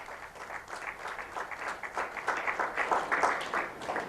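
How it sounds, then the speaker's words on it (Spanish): A church congregation claps steadily for about four seconds in a dense, even patter, moderately loud and roomy throughout. "Dale la ofrenda de palmas al Rey."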